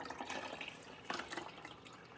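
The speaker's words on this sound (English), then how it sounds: "Pour your fresh water." Fresh water pouring into a Mr. Coffee Cafe iced tea maker, a 2.5-quart brewer, making a steady close splashing trickle that swells briefly midway and runs on to the end.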